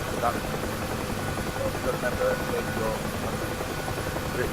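A helicopter in the DCS flight simulator, its steady rotor and engine drone running continuously at moderate level beneath conversation between players.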